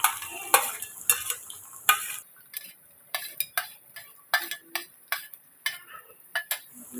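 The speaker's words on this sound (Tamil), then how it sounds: "சேர்த்துட்டு உப்புக்கு வெங்காயம் சேர்த்து இதை நம்ம வதக்கி எடுத்துக்கலாம்" Onions sautéing in oil with mustard seeds, urad dal and dried chilli for egg podimas, heard as soft sizzling broken by repeated spatula scrapes and clinks against the pan at an even pace, close by, with no voices.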